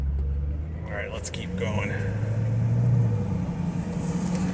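A 2001 Corvette C5 on a test drive, its steady engine drone and road rumble running continuously, with someone speaking briefly over it.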